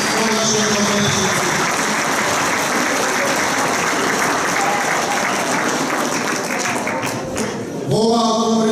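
A crowd at a cake-festival conference evening claps in sustained, dense applause, holding steady for several seconds before it fades out near the end.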